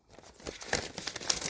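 Scrap paper is crumpled up close, with crisp crackling and rustling bursts that build over a second or so.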